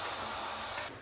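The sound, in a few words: paint sprayer machine spraying paint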